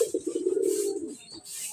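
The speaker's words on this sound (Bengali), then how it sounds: "এই যে দেখেন আমার এই যে কবুতর আছে" A pigeon coos once in a low, throaty, warbling call close by, followed by faint hiss and a softer second murmur.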